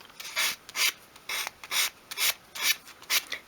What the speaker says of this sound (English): just sand away wherever you want that lovely colour to come through.